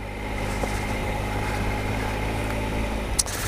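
A motorcycle engine holds steady revs while climbing a slippery, muddy winter trail uphill, a constant close drone with a brief knock near the end.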